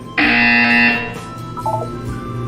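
A single loud electronic buzzer from the video game Portal 2 blares for almost a second and cuts off, followed by fainter electronic tones and low background hum.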